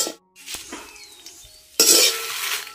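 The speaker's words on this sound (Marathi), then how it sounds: "कमी आचेवरती सगळं आता हळूहळू भाजून घेते सगळा गरम मसाला" Whole garam masala and coriander seeds dry-roasting in a pan over a low flame on a wood-fired stove, with scraping, stirring clatter and a soft sizzle that grows louder and denser toward the end.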